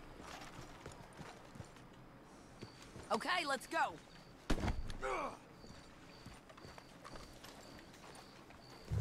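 Hooves clip-clop steadily beneath someone speaking briefly in Red Dead Redemption 2, with a faint repeating electronic tone in the background.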